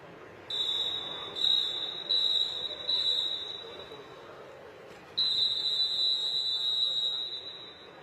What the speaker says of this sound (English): And there's the whistle.